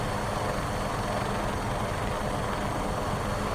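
A helicopter, either an MD 500E or a Bell 407 with its doors off, drones steadily in flight, a loud, unbroken rotor and engine roar from close inside the cabin, with no talking.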